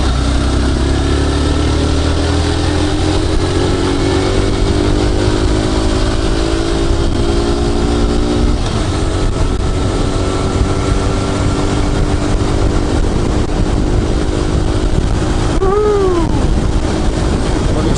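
A motorcycle rides steadily at speed, its engine a continuous loud drone with rising harmonic tones as it accelerates, then holding steady, with a brief whine near the end.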